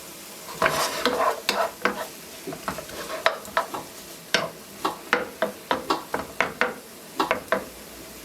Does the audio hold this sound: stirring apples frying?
yes